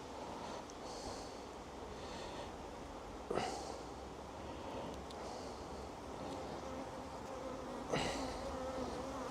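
A dense, steady hum of honeybees swarming around an opened hive during queen cell removal, continuous and close, with a couple of brief knocks or handling sounds and no speech.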